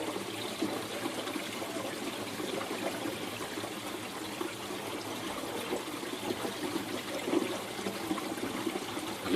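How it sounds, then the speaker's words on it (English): Air bubbling and gurgling out of reef aquarium plumbing as water flushes through, a steady close trickling wash with a louder burp near the end. "There's finer bubbles coming out, and we'll get a couple of big burps, and the rest of the air will flush out shortly."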